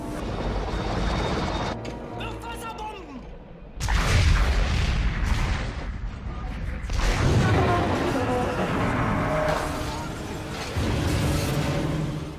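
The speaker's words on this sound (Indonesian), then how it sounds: "destroyer ini langsung menjatuhkan bom bawah air" Depth charges dropped by a destroyer exploding around the submarine U-96, heavy rumbling booms and crashing blasts in sustained, loud waves with a brief lull partway through.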